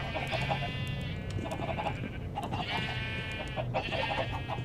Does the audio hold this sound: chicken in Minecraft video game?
yes